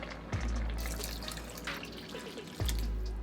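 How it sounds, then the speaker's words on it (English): Water pours into a pot of vegan birria mixture with a low, steady gurgling splash and a couple of heavier glugs, close and moderately quiet, with no voices. "I'm gonna go ahead and add 4 cups of water"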